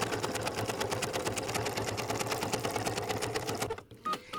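A sewing machine runs a triple stitch on wool applique, with a rapid, even rhythm of needle strokes close by. It stops abruptly near the end, followed by a few brief clicks.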